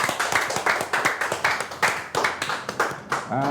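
A handful of people in a studio talk-show setting clap in a quick, uneven rhythm of distinct close hand claps, with a voice briefly coming in near the end.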